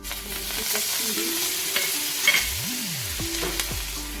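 Pav buns sizzle on a hot pan with pav bhaji masala, a loud continuous frying hiss with stirring scrapes and a few spatter pops, with no voices.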